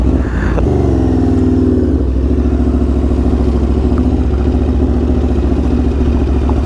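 An Aprilia RSV4 superbike engine runs loud and close, a steady throbbing idle with a brief rev at the start, alone without talk.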